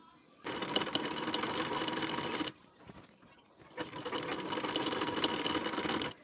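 A sewing machine stitches a blouse collar in two loud, steady mechanical bursts separated by a short pause, close up.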